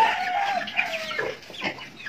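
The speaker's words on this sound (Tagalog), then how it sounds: "maraming alagang manok sa Papa dito" Several chickens cluck and a rooster crows nearby, with overlapping calls in a farmyard and no talking.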